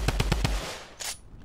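Video game gunfire: a rapid burst of four sharp shots in quick succession, followed by a brief, brighter crack after a short pause.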